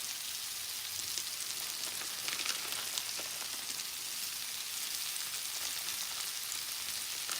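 Seitan crumbles, like little sausage crumbles for tacos, frying in a hot pan: a steady, dense sizzle and crackle that runs evenly throughout at moderate loudness, with no talking.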